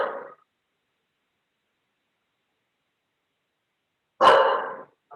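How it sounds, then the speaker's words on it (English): A dog barks in a single short burst near the end of a quiet stretch, with a briefer bark at the very start and silence between. "Sorry for the dog."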